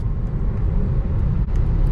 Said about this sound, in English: So we're at 30 miles an hour. You just take off.